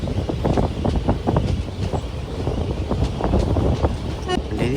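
The Kacheguda Express, train 17651 from Renigunta, runs near Udaynagar toward Kacheguda, giving a steady loud rumble with rhythmic rail clacks and wind buffeting throughout.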